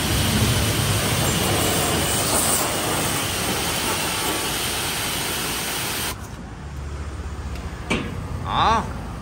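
High-pressure water pump driven by a 3 hp motor, with a ceramic 20 mm plunger head rated 80 to 100 bar, running as a dense, steady hiss and rush of spraying water that drops away after about six seconds.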